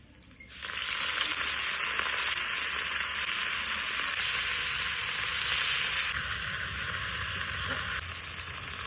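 Dried chili, garlic cloves and chopped kankrol greens hit hot oil in a pan in a village kitchen, bursting into a loud, steady sizzle that carries on with faint stirring underneath.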